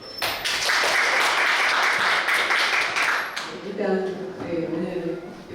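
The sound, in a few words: audience applause welcoming a lecturer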